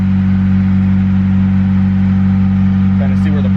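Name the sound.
turbo Honda Civic D16 Y8 engine dyno pull without vtec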